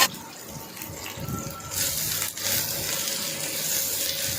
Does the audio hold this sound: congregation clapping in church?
no